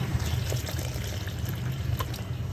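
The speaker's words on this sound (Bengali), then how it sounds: "পানিটা অল্প অল্প করে নিয়ে মিলাই নিব" Warm water is poured little by little into flour to mix a dough, a soft, steady trickle heard close under a constant low hiss.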